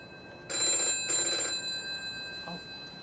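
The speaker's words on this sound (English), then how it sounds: "Somebody answer that phone." Old telephone bell ringing in a home, two loud metallic trills in quick succession, then quiet room sound.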